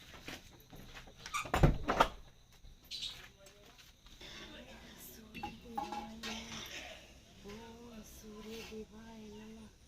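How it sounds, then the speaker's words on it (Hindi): A door is closed inside a home in Himachal Pradesh: a sharp, loud knock and clatter early on, followed by someone speaking over faint household rattles. "एक दरवाजा बंद कर देती हूँ पहले"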